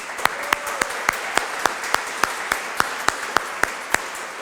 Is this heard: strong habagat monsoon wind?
no